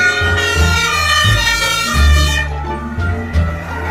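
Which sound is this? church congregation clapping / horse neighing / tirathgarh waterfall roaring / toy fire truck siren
toy fire truck siren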